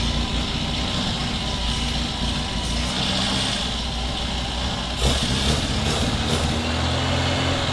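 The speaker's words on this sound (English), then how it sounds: "that engine sounds sweet as a nut" A rare barn-find vintage Riley Kestrel car engine running on a first start with no coolant, a steady loud rumbling idle close by, with a brief louder surge partway through.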